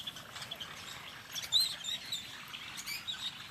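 Dense, continuous chirping and tweeting from a large morning flock of small birds, roughly a hundred or more, with overlapping high calls forming a steady chattering wash and a few sharper notes standing out.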